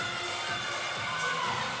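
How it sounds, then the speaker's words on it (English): Gymnastics teammates cheer and shout from nearby, a brief continuous burst of excited voices in an arena during a meet. "Her teammates cheering her on there"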